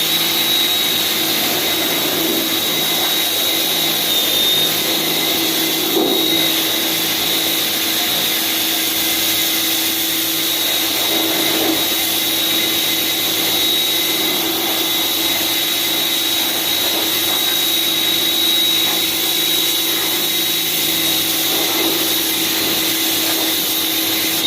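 A four-year-old Bosch pressure washer runs steadily while cleaning a very dirty gas stove, giving a continuous loud, even motor whine with a hissing spray that barely changes for the whole stretch and has no voices over it.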